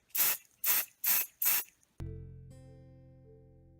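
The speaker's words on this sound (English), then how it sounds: "And this is my spray adhesive. It's 505 spray." 505 spray adhesive misted onto small felt eyes for a hand-sewn felt chicken: four short, close, loud hissing bursts in a quick even rhythm, followed by a ringing tonal hum.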